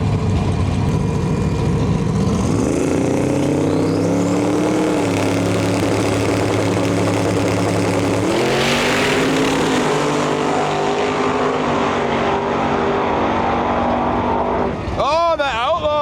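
At a drag racing event, engines including a twin-turbo Silverado drone and rev, pitch stepping upward as they pull away, with loud track noise under announcer talk throughout.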